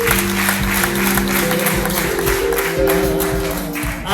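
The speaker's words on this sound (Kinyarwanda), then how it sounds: "muhaguruke mwese kugira ngo tubakire n'amashyi menshi cyane" Church congregation applauding together during an interfaith evening of worship music, a dense, steady wash of clapping that stays loud from start to finish, with a sustained hum of music or tone running underneath.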